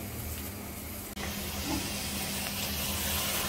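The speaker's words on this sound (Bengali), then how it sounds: "এই যে আমি আমার সবজিটা দিয়ে দিচ্ছি আমার মশলায়, দিয়ে আমি ভালো করে এটাকে এখন কষিয়ে নিব" Vegetables sizzle in hot spice paste for a rui fish soup with sajna stalks, a loud, steady hiss close by that drops out for an instant and then carries on without a break.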